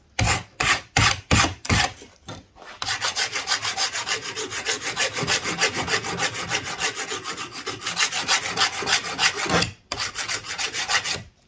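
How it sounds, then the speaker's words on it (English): A hand file scrapes the burr off a cut aluminium edge at a bench: a few short, sharp strokes, then a long run of quick, steady rasping passes close up, with a brief pause near the end. "few passes with the file and you can see it's taken that burr off"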